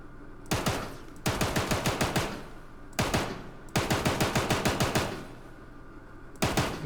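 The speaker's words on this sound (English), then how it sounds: "I can look at the gun that's firing." An automatic gun fires in rapid bursts in the video game Star Citizen, with several close, loud volleys of quick shots separated by short pauses and no talk.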